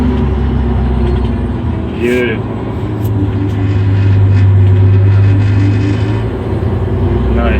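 A Terex articulated dump truck pulls away, its heavy diesel engine droning steadily and loudly up close, the tone climbing as it gets moving; a voice speaks briefly over it.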